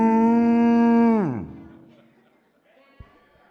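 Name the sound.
voice imitating a cow mooing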